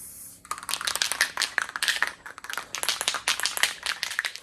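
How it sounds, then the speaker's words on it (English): Aerosol spray paint can hissing in short repeated bursts over both sides of a handmade fishing lure, close and fairly loud, with brief rattles between sprays. "I'm just gonna spray both sides of it"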